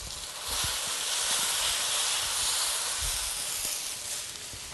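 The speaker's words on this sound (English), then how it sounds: "take our pasta that's drained. And it will sizzle." Steady broadband hissing sizzle of drained pasta hitting a hot pan, loud and continuous with faint clinks underneath.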